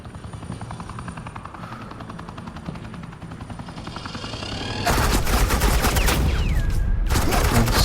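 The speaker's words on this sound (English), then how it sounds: "suppressing fire" Rapid machine-gun suppressing fire in a Batman animated episode rattles under a steady helicopter-like drone, the bursts turning much louder and denser partway through and continuing to the end.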